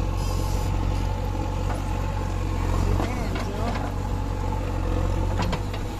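A tractor engine idles steadily as a JCB loader fills it with sand, a loud continuous low rumble with occasional clanks and scrapes, while people talk nearby.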